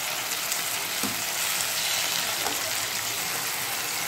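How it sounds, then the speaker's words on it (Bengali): Chopped tomatoes fry with a steady, close sizzle in a pan on a gas flame for a Bengali cauliflower manchurian, broken by a couple of soft scraping stirs. "টমেটো কুচি দিয়ে আমি আবার এক দু মিনিট নেড়ে নেব"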